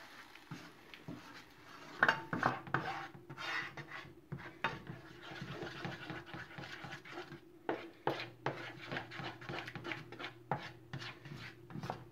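Blueberries, lemon juice and Swerve stirred in a pot for a keto blueberry hand pie filling: a spoon scrapes and clinks steadily against the pot, close and moderately loud, with irregular knocks throughout.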